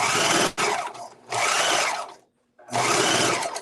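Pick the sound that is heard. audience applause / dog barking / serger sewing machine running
serger sewing machine running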